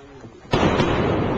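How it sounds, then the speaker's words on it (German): A Concorde supersonic airliner's sonic boom: a sudden loud blast breaks a quiet hum and becomes a sustained rumbling roar. Only one distinct onset stands out rather than two separate bangs. "Deswegen knallt die Concorde auch zweimal."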